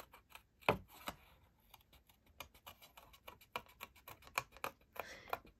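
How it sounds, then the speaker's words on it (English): Scissors snip out a stamped dianthus flower image from card in a quick, uneven run of close, crisp little cuts, with soft rustles of the card between them. "So let's just cut these out."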